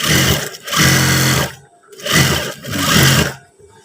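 A sewing machine stitches trousers with a cargo pocket, running loudly in two long bursts with a brief pause between them and trailing off at the end.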